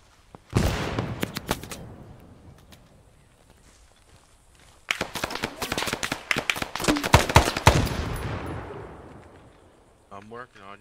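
Grenade explosion and gunfire in the Arma 3 SOG Prairie Fire Vietnam setting: a sharp blast that decays, a quiet gap, then a dense run of rapid rifle and machine-gun shots and cracks, ending with a brief burst of radio-like noise.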